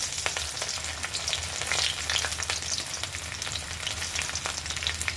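Garlic fries in hot oil for a pickle, with a dense, continuous close-up sizzle and crackle and occasional stirring, steady throughout with no talk.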